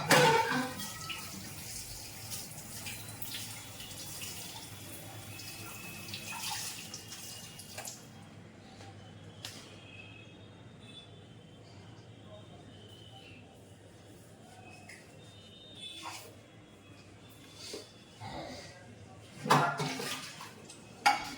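A non-stick pan that held parathas is washed under a running tap, with steady water flow and occasional scrapes and knocks of the pan, faint and close, with no talk.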